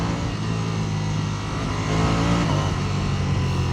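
A 2026 Ducati Panigale V4S motorcycle with a V4 engine runs loud and close, its deep throbbing exhaust note holding steady before swelling into a stronger rev partway through, with no talking.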